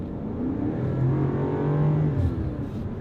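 A BMW M5 Competition switched into sports mode, its engine revving up and holding a steady, loud growl before easing back, heard close from inside the car.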